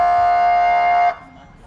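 A sheriff's vehicle siren sounds a loud, steady electronic tone up close, holding for about a second before cutting off abruptly into quiet background.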